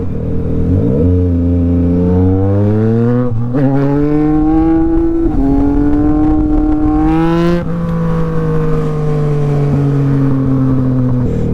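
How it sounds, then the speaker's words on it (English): A dual sport motorcycle engine revs hard during a wheelie, its loud, close drone climbing steadily in pitch, dipping briefly between gear changes, then rising again before settling into a steady high whine. "See if I can do a wheelie for the kids."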